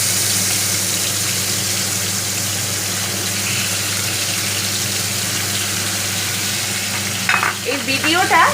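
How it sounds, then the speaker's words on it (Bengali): Salt-and-turmeric marinated prawns fry in hot oil, giving a loud, steady sizzle that runs throughout. Near the end, a few sharper scraping stirs break through it. "দিয়ে চিংড়ি মাছটা ভালো করে আমি ভেজে নেব।"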